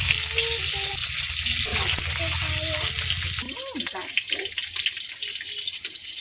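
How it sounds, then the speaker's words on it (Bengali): Eggs fry in hot oil in a wok with a loud, steady sizzle that thins out midway, close by, while a voice speaks over it. "কড়া তেল গরম হয়ে গেছে ডিমগুলো ভেজে নেবো"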